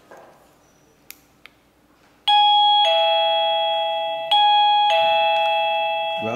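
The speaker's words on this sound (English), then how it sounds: "Let's test the sound of the wireless door chime." A wireless door chime in piano white or black rings a loud, clear multi-tone melody of several sustained ding-dong notes, each decaying into the next, after a few faint clicks.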